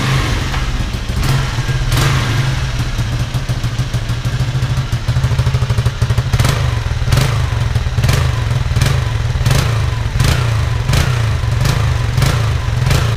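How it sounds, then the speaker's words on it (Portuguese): A Honda Titan KS 125 motorcycle engine with its air filter removed idles steadily with a low, throbbing rumble and periodic mechanical clatters, close and loud, no talking. "vamos dar uma partidinha na moto pra vocês verem como tá o barulho dela"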